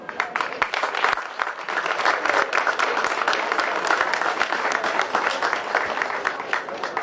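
Audience applause at a French potato festival for a group of young Romanian dancers and singers, dense continuous clapping from many hands that holds steady for several seconds, fairly close and evenly sustained.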